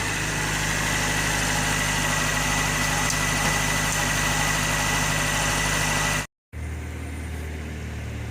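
A Mazda Miata engine idles smoothly after a crank-no-start repair, a steady even hum with a low rumble, close and constant, broken by a brief cut near the end before it resumes, no talking.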